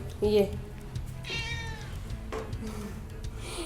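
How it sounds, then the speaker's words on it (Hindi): A hungry cat meows a few times at close range inside a home while rice cooks for it, the cries drawn out and rising over a low background hum. "हाँ कह रहा है ये भी टॉकिंग कैट ही लग रहा है मुझे"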